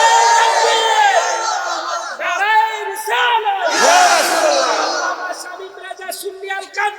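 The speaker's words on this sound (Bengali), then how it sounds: "দুইটা হাত আল্লাহরে উঠে দেখায়া দেয় আর জবান না খুলে জোরে একটা তাকবীর হবে না রে তাকবীর" A large crowd at a Shab-e-Barat sermon gathering roars a takbir in unison, a loud, sustained mass shout of many voices rising and falling over about seven seconds, with a final few ragged cries trailing off.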